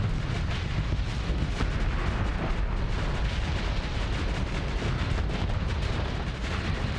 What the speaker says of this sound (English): Laser spam and ion cannon spam.